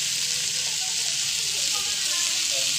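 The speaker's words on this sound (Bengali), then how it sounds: "এখন আলু আর ফুলকপি পেঁয়াজ সব একসাথে দিয়ে ভালো করে নেড়ে চেড়ে নেব।" Potatoes, cauliflower and onion stir-fry together in hot oil, giving a dense, loud, continuous sizzle with faint stirring scrapes underneath and a voice murmuring in the background.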